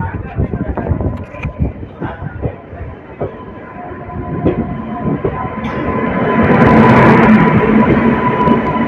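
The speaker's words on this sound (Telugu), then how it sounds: "ప్లాట్ఫామ్ 1కి వచ్చే ట్రైన్స్ ఈ సిగ్నల్ దగ్గర నుంచి ఇట్లా కట్ అవుతాయండి." Rail clatter and rumbling from a train at a station, rising into a steady roar as it passes close by a signal near platform 1, with a tonal whine and scattered clanks.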